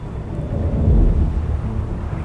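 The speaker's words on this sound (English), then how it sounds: "There's a storm coming in" Low, rolling thunder from a storm approaching in Iceland, a deep continuous rumble that swells toward the middle and stays heavy throughout, heard alone with no voices.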